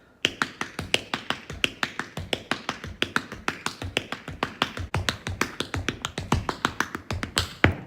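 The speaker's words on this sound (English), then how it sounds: "you can hear what the tap shoes sound like" Rapid, crisp tap-shoe taps playing paradiddles on a hard floor in a quick steady pattern, dozens of sharp clicks close by, with no voices.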